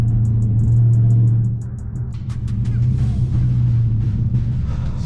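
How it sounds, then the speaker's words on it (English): A 1000 hp Dodge Hellcat drives along with a loud, steady low engine drone inside the cabin, swelling and easing slightly, while faint high ticks and clicks come and go above it. "you guys can hear the whine a little bit better too"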